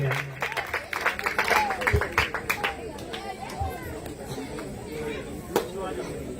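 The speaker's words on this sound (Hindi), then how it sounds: "जोरदार तालियां" An outdoor Ram Leela festival crowd gives a burst of clapping to welcome the MLA, loud at first and then thinning out, while chatter and voices carry on around it.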